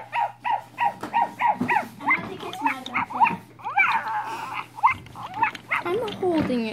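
A dog barks repeatedly in quick, rhythmic yaps close by, then shifts to whining, yelping sounds while a person speaks over it.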